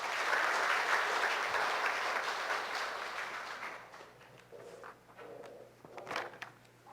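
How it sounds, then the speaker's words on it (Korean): Church congregation applauding in welcome of an elder, a dense wash of clapping for about four seconds that thins into scattered claps and fades out. "뜨겁게 박수로 환영합시다."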